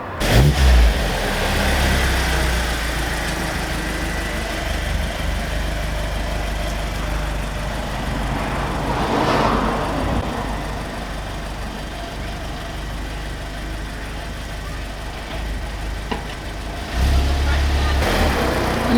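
An Audi B7 A4 fitted with a K04 turbo drives on the road, its engine droning steadily from inside the cabin and surging louder under acceleration near the start and end, with people talking over it.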